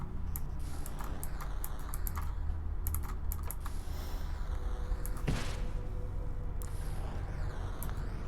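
Rapid, uneven clicks of a computer keyboard being typed on during a building game, close and continuous over a dense, steady background hum, without talking.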